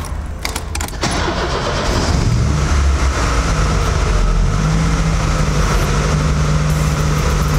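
A car engine with a FuelTech injection system and wideband sensor cranks briefly, catches and settles into a loud, steady idle. It runs close and alone for the rest of the clip.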